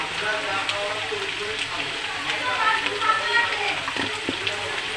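Mutton and fried potatoes sautéing in a pan, a steady close sizzling hiss with occasional soft stirring knocks, someone talking over it.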